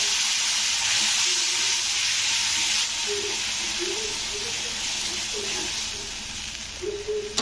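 Splash of water hitting hot spices (chili powder and turmeric) frying in a pan for soybean curry, giving a loud, steady close-up sizzle and hiss throughout, with a faint voice in the background.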